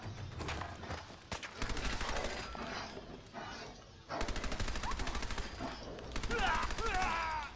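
Rapid bursts of gunfire from a weak gun in Fallout 4, several close, loud strings of repeated shots separated by short pauses, with faint talk underneath.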